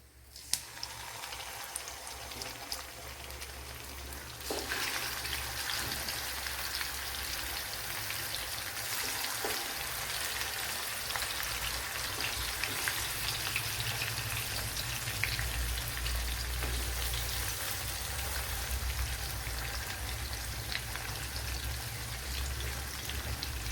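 Chicken frying in hot oil with fennel seeds for a home chicken fry, a dense rain-like sizzle that jumps louder a few seconds in as the pieces hit the oil, then holds steady and close with no voices.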